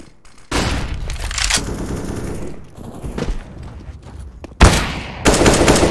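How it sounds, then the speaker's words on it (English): A flashbang grenade and gunfire in Counter-Strike: Global Offensive, loud sharp bursts and booms in close succession with bright blasts at the start and near the end. "I'm throwing a flashbang."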